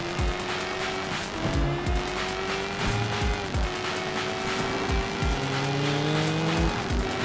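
A motorbike engine races and whines in the video game Sleeping Dogs, with shifting revs and repeated tire squeals over a constant loud, dense drone.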